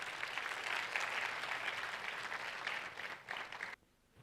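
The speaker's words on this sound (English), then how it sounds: "Can we give a big round of applause?" An audience at a library talk event claps in a full, continuous round of applause that stops abruptly just before the end.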